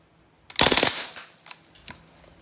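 Bursts from a DPMS Panther Arms SBR CO2 airgun rifle on full auto: a loud rapid rattle of shots for about half a second, tapering off, then two faint isolated pops afterward.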